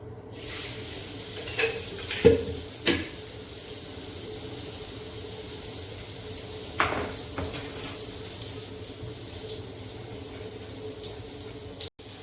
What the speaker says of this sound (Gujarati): એમાં થોડું બટર અને તેલ, થોડું તેલ નાખવાનું અને સાંતળી દેવાનું